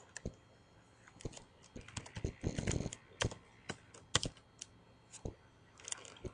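A computer keyboard is typed on in short irregular bursts of crisp key clicks, near and fairly quiet, with a quicker flurry in the middle while a command is entered.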